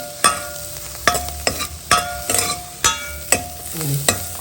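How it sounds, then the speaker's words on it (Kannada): Coriander leaves sizzle softly in a hot pan as a spoon or spatula stirs and scrapes them, giving about eight sharp scraping knocks in an uneven rhythm, close and clear with no talking. "ಕೊತ್ತಂಬರಿ ಸೊಪ್ಪು ಹಸಿ ವಾಸನೆ ಹೋಗೋವರೆಗೆ ಹುರ್ಕೊಳ್ಳೋಣ"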